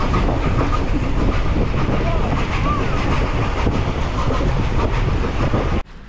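A steam train on the Castlemaine line rides the rails with a loud, continuous rumble and rattle of carriages from on board, cutting off abruptly near the end.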